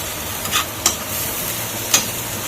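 Grated coconut and khoa filling roasts in a pan over low heat, a soft steady sizzle broken by a few sharp scrapes of a spatula, with no talk.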